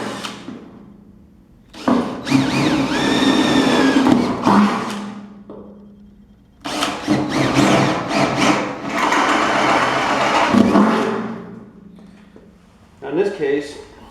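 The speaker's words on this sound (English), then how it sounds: "And then I'll step that up with a slightly larger bit." A drill bores holes with a larger bit into the quarter panel of a 1965 Mustang, in two long, loud, steady whining runs. Each run lasts several seconds, with short pauses and a brief burst at the end.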